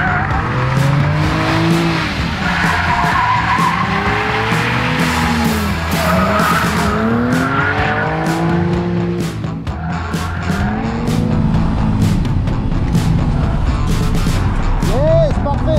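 A Nissan 370Z drifting on a track, its engine revving up and down while the tires skid and squeal in long wavering howls, loud and close, with occasional sharp pops.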